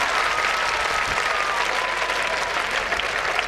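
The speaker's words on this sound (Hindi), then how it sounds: "जोरदार तालियां इन सिलेक्टेड सीएलसी के लिए" An audience at a student result celebration claps steadily for the selected students, a sustained, even wash of applause from a large crowd, with no speech over it.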